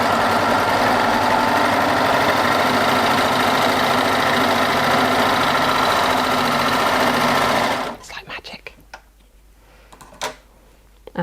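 A Baby Lock Euphoria coverstitch machine sews in a steady, fast, humming mechanical whir for about eight seconds, then stops abruptly, leaving a few soft clicks and handling noises.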